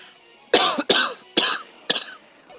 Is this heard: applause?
no